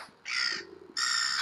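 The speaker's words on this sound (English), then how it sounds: "A squawking bird there, didn't like my singing." A crow caws loudly twice, two harsh squawks close by with a short gap between them, heard outdoors on a heritage walk in Belper with no talking.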